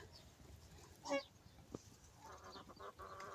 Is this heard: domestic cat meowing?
no